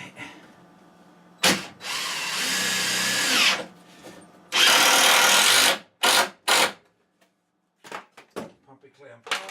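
A power drill drives screws into wooden shelves, heard as several loud close whirring bursts of varying length with short pauses between them, followed by a few light knocks and clatters.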